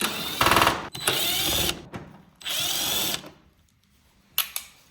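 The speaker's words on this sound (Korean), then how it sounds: "하단에 고정된 나사 총 3개를 확인 후에 전동 드라이버로 분리합니다" An electric screwdriver whirs in three bursts of a second or so each, separated by pauses, removing three base screws from a Samsung Wind-Free standing air conditioner, ending with a couple of quick clicks.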